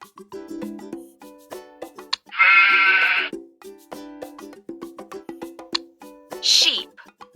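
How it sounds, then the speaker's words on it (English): Sheep bleating among farm animal calls, several wavering bleats, one long loud bleat in the middle and a short sharp one near the end, with quieter animal and voice sounds between. "Sheep."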